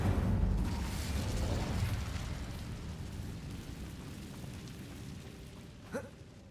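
Incendio fire spell cast in Hogwarts Legacy, a loud whooshing burst of flame at the start that fades into a steady crackling rumble, with a brief sharp pop near the end.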